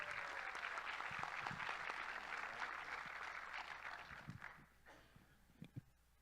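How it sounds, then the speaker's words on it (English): Applause from an audience at an event with Cherokee children, a steady wash of clapping that is fairly faint and gradually thins out, with a few scattered claps near the end. "I think that deserves a big round of applause."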